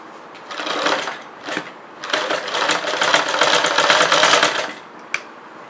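Sewing machine stitching chudidar pieces together, a steady mechanical whir running in bursts near the mic, with short starts and stops and a brief click at the end.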